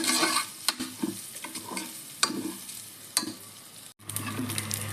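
Rice for tomato bath roasts in a pan, a soft dry sizzle broken by repeated scraping stirs of a spoon, close and steady with no talking.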